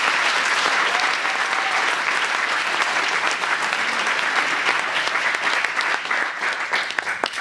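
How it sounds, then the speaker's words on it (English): Applause for students and teachers at a college presentation evening, a dense, steady round of clapping from an indoor audience that holds for several seconds before thinning slightly at the end. "let's have a round of applause for both the students and the teachers"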